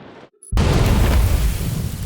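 The sun exploding in the video game Outer Wilds, a sudden deep roaring blast after a brief quiet moment and a faint tone, sustained loud rumble for over a second.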